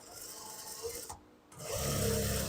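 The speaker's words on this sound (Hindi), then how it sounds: "इसको हमने ये सिलाई लगाते जाना है" Sewing machine stitching fabric in a beginner stitching lesson, a close, steady mechanical whir that briefly stops and then resumes louder, with no talking.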